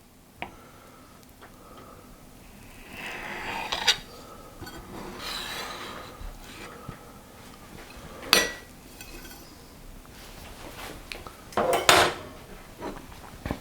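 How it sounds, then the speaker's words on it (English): Knife cutting a slice of blackberry and lemon cheesecake on a plate, soft slicing sounds punctuated by a few sharp metallic clinks and taps of cutlery against crockery, close and intermittent. "all there is to do is to cut it open and have a little taste"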